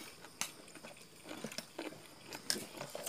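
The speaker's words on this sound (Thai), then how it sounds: "มันกรุบดีนะ เคี้ยวกรุบเหมือนหนวดปลาหมึกอ่ะ" Crunchy shellfish from a spicy papaya salad with clams is chewed close up, giving soft irregular crunches and bites over a quiet background, with a few sharper crackles spaced through the moment.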